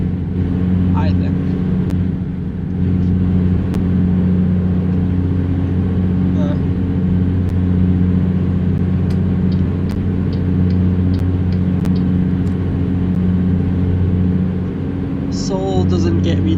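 A Peterbilt 350 truck in American Truck Simulator drones along at steady cruising speed, a loud, constant low engine rumble with faint clicks, while someone talks over it.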